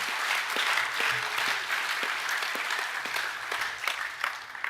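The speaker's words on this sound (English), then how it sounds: "boys, can we give a round of applause to your head of years?" Steady applause from an audience at a school awards presentation evening, many hands clapping together throughout, dense and continuous with no talk over it.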